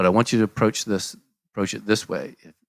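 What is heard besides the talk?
No everyday noises stand out.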